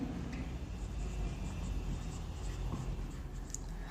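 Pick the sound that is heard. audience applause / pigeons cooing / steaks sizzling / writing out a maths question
writing out a maths question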